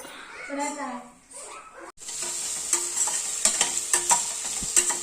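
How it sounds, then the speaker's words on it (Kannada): Kebab pieces frying in a hot pan with steady sizzling and occasional stirring scrapes, starting after a moment of speech in a kitchen. "ನೆಕ್ಸ್ಟ್ ಫ್ರೈ ಮಾಡ್ತಾವಳು ನೋಡಿ"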